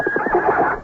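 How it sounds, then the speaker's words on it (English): A horse neighs loudly in an old-time radio mystery drama, a single strained whinny with a wavering, rising and falling pitch lasting nearly a second, close and clear with no voices over it. "The horse has gone wild!"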